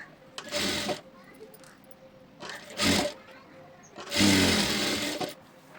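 A sewing machine stitches a blouse lining together in three separate bursts of fast whirring, close and loud, with quiet handling sounds between the runs.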